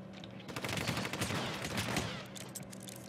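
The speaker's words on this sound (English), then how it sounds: "That is machine gun fire on the streets below." Rapid machine gun fire in Hitman: Absolution, a dense rattling burst of close shots in quick succession, fairly faint overall, with no talk over it.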